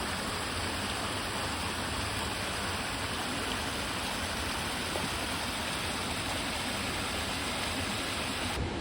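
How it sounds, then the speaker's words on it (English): Constant rushing water noise from a small waterfall near Chittenango Falls, a steady splashing roar with no other sounds breaking through. "It's a cute little waterfall."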